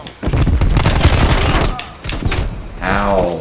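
Shotgun blasts in Call of Duty Cold War arrive as a few loud close bursts over the first two seconds, mixed with chatter from players talking.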